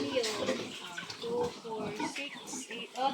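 Pig grunting in a pigsty, rough snorting grunts repeating close by through the whole stretch, with people talking over and around them.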